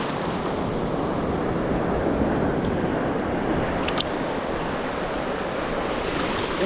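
Ocean surf washes steadily on a shell-collecting beach, a constant broadband roar with wind buffeting the microphone and no voices.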